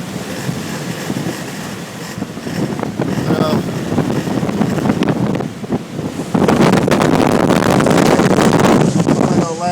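Strong gusting wind of about 60 mph buffets a microphone up on a Comansa tower crane, a loud roaring rush that swells heavier toward the end, with someone speaking beneath it.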